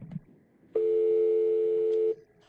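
A steady telephone dial tone sounds when dialing into a Cisco Unified Communications mobile voice access line from a mobile phone, holding a constant pitch for about a second and a half before cutting off, with quiet clicks around it.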